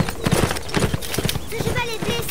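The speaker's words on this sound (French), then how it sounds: "Ce cheval est blessé, père." Hooves of an injured horse clop through a fantasy forest in the video game A Blind Legend, with irregular clip-clop steps and a faint whinny heard under steady spoken dialogue.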